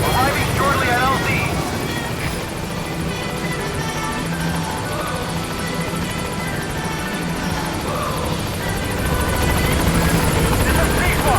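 The Pequod helicopter from Metal Gear Solid V arrives at a landing zone, its rotor thrumming loud and continuous beneath radio voices talking throughout.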